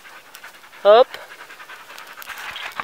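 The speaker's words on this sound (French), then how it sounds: "Les chiens, arrêtez de faire gling gling." Dogs pant steadily beside a campfire in the woods, with one brief yelp-like burst, while a person speaks a short word nearby.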